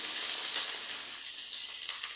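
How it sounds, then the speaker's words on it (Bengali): Chopped onion fries in hot oil for begun bharta, a steady hissing sizzle with fine crackle, close and even throughout without talk. "পেঁয়াজ রসুনটা একটু লাল লাল করে ভেজে নিতে হবে।"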